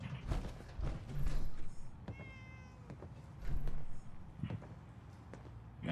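A cat meows once midway through a Fallout 4 game scene, the call rising over steady game ambience with scattered footstep-like knocks and thuds.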